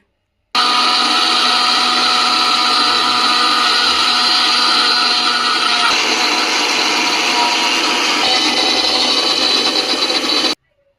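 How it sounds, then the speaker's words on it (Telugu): A mixer grinder blending beetroot and apple whirs loudly and steadily for about ten seconds, its motor whine shifting slightly in pitch before cutting off abruptly. "బీట్రూట్ ఇంకా 1 యాపిల్ మాత్రమే మిక్సీ చేస్తాను."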